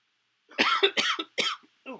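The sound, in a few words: cough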